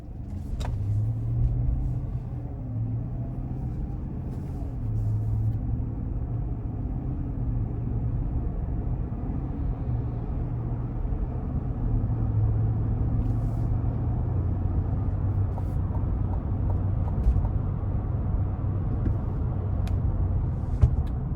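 A 2021 Chevrolet Suburban High Country with the 6.2 engine driving on the road, heard as a steady low road rumble and engine hum from inside the cabin, continuous and fairly loud, with no talk.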